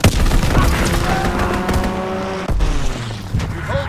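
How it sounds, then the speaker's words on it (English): Rapid overlapping gunfire and booming impacts from a strafing run in the World War II shooter Call of Duty: WWII, Domination mode on the Shipment 1944 map, dense and loud throughout with a sharp break midway. "Strafing run incoming. Get to cover!"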